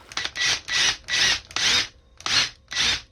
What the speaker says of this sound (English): I'm pretty sure that my problem is the drill bit.